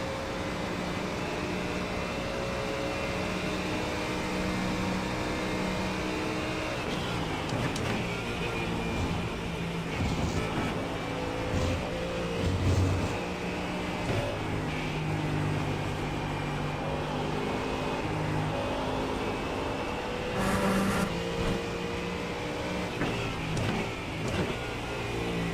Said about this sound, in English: I do find that this car feels like it's got a lot of grunt going up the hill